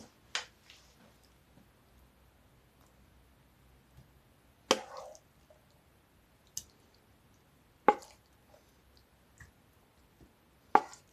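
Mushrooms with carrots spooned into the bottom of a glazed clay pot, heard as a few soft, wet thuds and squishes spaced several seconds apart against a quiet kitchen.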